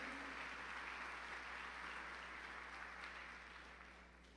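Faint, distant applause from a church congregation clapping for Jesus, a soft, even rustle of many hands over a low steady hum, tapering slightly toward the end.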